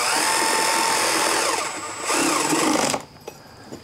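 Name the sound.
electric tool snugging primary cover bolts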